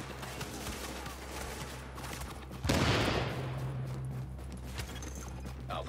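Video game battle with a burst of loud gunfire around the midpoint over a constant rumbling battlefield din, followed by a steady lower drone and scattered distant shots.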